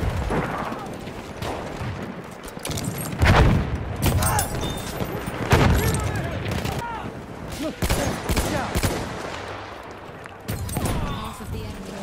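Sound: machine gun fire in Battlefield 1 video game

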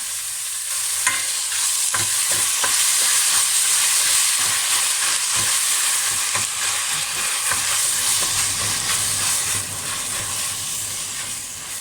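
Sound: stir-frying food in a wok

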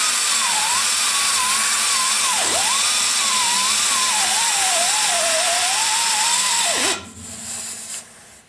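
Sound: power tool cutting a mound on a casting while porting

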